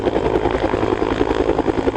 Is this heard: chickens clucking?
no